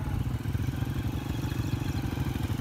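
Motorcycle engines rumble and putter steadily close by on an unpaved village dirt road as a wedding party's bikes arrive, a low continuous drone with no voices.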